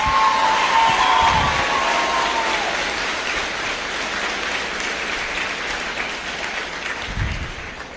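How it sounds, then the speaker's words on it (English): Sustained applause from a large audience at a 2023 Cumberland County High School graduation ceremony, a dense steady clatter of many hands filling the hall and slowly fading over several seconds, with faint cheering. "let's give them a round of applause"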